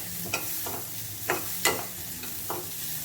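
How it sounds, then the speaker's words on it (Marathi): Onion fries in hot oil in a pan, a soft continuous sizzle broken by several sharp spatula scrapes as it is stirred, with no talking. "आपल्याला हा कांदा पूर्ण असा लाल होईपर्यंत भाजून घ्यायचा आहे."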